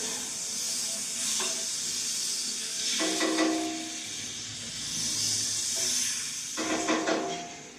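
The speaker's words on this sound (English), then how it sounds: "We're going to add a little bit of avocado oil to the bottom. And also a half a stick of butter." Butter and avocado oil melting in a pan give a steady soft sizzle and hiss, moderately quiet, with a few brief clinking or scraping bursts over the top.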